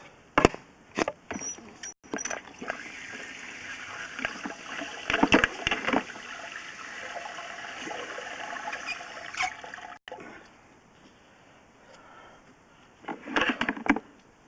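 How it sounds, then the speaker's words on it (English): Water runs through a 4-inch drain pipe during a sewer camera inspection, a steady rushing hiss that lasts several seconds, broken by clunks and scraping knocks from the camera at the start and end. "I'm going to go ahead and run a little bit of water real quick, clear off our lens."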